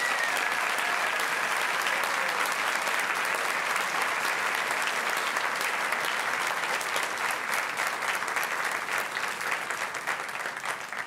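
A large crowd at a class night ceremony gives award winners sustained applause, a thick, even roar of clapping from many hands that stays steady for over ten seconds and tapers slightly at the end.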